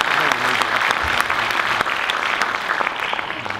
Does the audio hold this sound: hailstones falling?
no